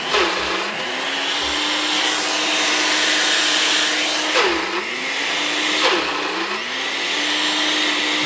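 Loud, continuous whir of a blender motor blending thick Lebanese garlic sauce (toum), its pitch dipping and rising a few times as the mixture shifts, with no talking.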